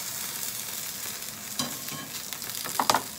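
Tofu sizzles and fries steadily in a hot pan, a close continuous crackle with a few louder stirring scrapes near the end.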